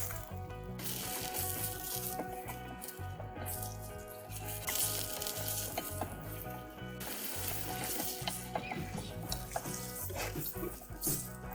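Chicken frying in oil on a high flame for karahi, a dense continuous sizzle with stirring and clatter of the pan throughout.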